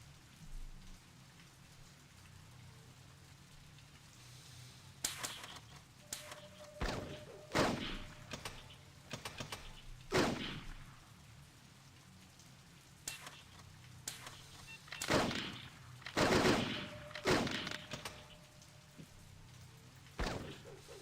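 Blade Runner video game gunfire, a series of sharp, loud shots fired in irregular bursts over a low background hiss.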